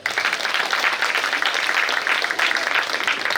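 A school event audience, the Prayaas Gurukulam annual function, bursts into steady, dense applause after a parents' performance, loud and continuous for several seconds with no break.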